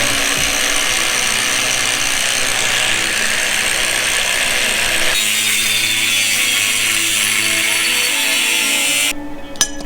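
A power tool cuts a folded steel bracket meant to hold an ignition coil, grinding loud and continuous for about nine seconds with a shift in pitch midway, then stopping abruptly.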